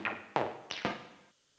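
Four sharp, glitchy percussive hits in quick succession from a resampled Serum synth sound, each a bright transient with a short metallic decay, followed by a brief quiet tail.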